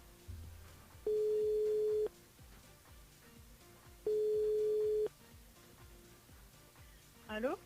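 Ringback tone on a radio call-in line while phoning a listener: two long, loud steady rings about a second each, separated by a pause, with faint background chatter underneath.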